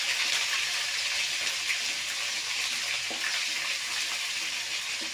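Ginger garlic paste frying in hot oil gives a steady, dense sizzle with occasional stirring scrapes, continuous and moderately quiet, with no voices.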